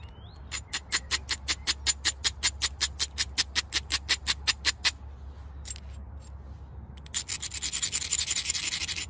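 Flint arrowhead being ground on stone: a run of about twenty quick, even rasping strokes, close and loud, then a pause and a denser continuous scraping burst.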